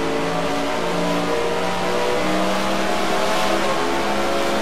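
A race car at a circuit holds its engine near the rev limiter around 8,000 RPM, giving a loud, continuous high-pitched scream with slight shifts in tone throughout, close and unbroken.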